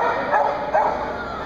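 A Beauceron at a dog agility competition gives two loud, close barks about half a second apart over steady background noise.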